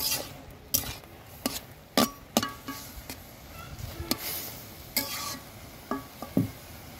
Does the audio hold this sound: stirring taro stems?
yes